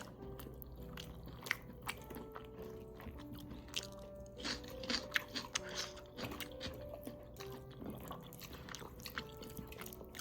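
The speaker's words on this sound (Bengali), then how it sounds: "আমি তো হেভি খাচ্ছি।" Eating mutton curry with rice at home, soft close chewing and wet smacking with occasional crunches and clinks, quiet and intermittent.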